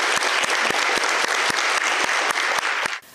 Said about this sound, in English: Let's give another loud round of applause for the teams who made it this far